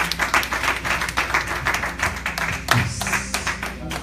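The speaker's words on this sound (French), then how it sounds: "Acclamons pour la parole." A church congregation applauding during a French-language sermon, a dense steady clapping that fills the room for the whole stretch, with faint voices mixed in.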